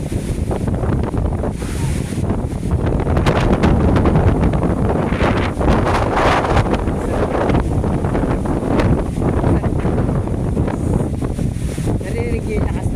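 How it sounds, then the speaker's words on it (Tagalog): Strong wind gusts across the microphone at a seaside resort in Bohol, roaring continuously with surf washing beneath it, loud and close; people talk faintly under the wind. "Narinig niyo yung lakas na huli ng hangin."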